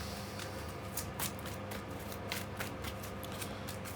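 Playing cards for a tabletop war game are shuffled by hand at close range, a quiet run of crisp riffles and soft slapping flutters repeating over several seconds.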